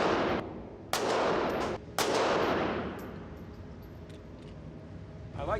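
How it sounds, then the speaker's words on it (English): Outdoors, a 9mm pistol fires two sharp, loud gunshots about a second apart, each followed by a long echoing decay, and a fainter crack comes near the end. "Well, let's try the 9mm."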